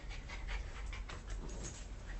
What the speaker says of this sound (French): Oh les petits chiens-chiens.